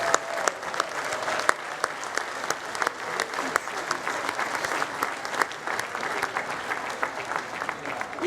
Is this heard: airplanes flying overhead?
no